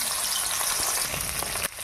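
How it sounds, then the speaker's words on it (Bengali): Fish heads sizzle loudly in hot mustard oil, a dense steady crackle and hiss close by with scattered pops and no voices. "আমার তেল গরম হয়ে গেছে, এবার দিয়ে দেবো মাছের মাথা"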